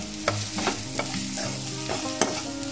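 A spoon stirs salt through a dry prawn and egg mixture in a hot pan, giving a steady sizzle broken by a few sharp scraping strokes, close and without talking.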